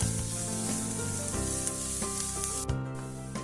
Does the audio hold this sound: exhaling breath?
no